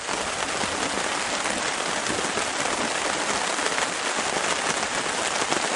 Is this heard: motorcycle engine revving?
no